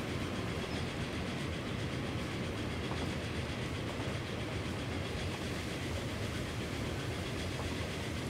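Train in the Transport Fever game running steadily on rails on an uphill gradient, with a continuous dense rolling rumble and faint clickety-clack, heard alone and constant throughout.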